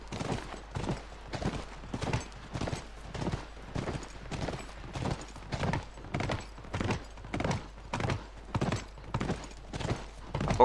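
Horse hooves clip-clop at a steady, even walking rhythm through a ride in The Last of Us, each beat close and distinct over a low ambient hum.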